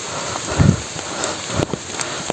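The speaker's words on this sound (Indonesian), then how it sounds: "Wah, diguyur hujan menuju puncak Gunung Malabar." Steady rain pours during a hike toward the summit of Mount Malabar, a constant hiss of drops on the surroundings with a few louder patters, heard alone without talk.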